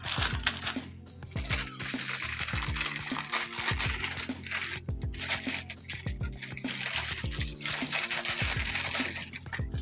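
Crinkly plastic wrappers are torn and rustled as blocks of instant noodles are pulled out, with repeated sharp crackles and crunches close by, alone without talk.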